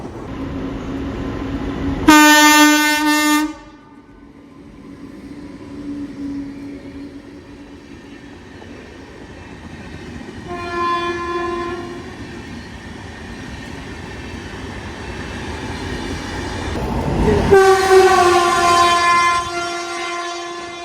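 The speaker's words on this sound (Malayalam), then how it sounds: "മൈസൂരിന്ന് ബഗൽകോട്ട് എന്ന സ്ഥലത്തേക്ക് വന്ന ബസവ എക്സ്പ്രസ് ആണ്." Basava Express passenger train on an Indian railway line, with loud two-tone horn blasts sounding three times, the first and last strong, over a continuous rumble of rolling wheels and carriages passing close by.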